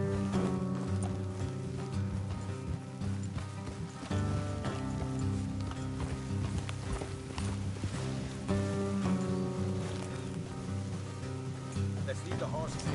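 Horse hooves clip-clop steadily along a road in Red Dead Redemption 2, with continuous tack and gear rattle mixed under a thick layer of game music and voices talking.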